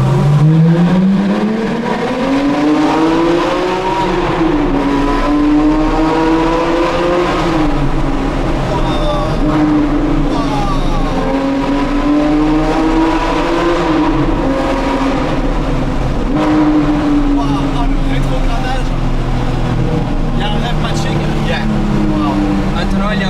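A Porsche 911 R flat-six climbs and drops through repeated revs with rev-matched downshifts, its tone sweeping up and down in loud, close waves, while people talk over it inside the car.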